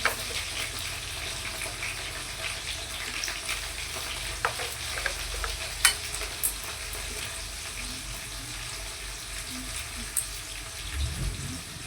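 Vegetable curry with cauliflower cooking in a kadai in a home kitchen, a steady low sizzle and bubbling running throughout with occasional clinks and water sounds, fairly quiet and without talk.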